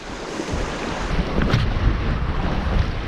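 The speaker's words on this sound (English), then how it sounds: "Oh, the wind is howling." Strong wind roars and buffets the microphone steadily on a bass fishing outing, with gusts swelling louder midway and no voices.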